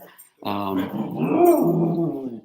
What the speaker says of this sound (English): Sorry, my dog is saying good morning to you.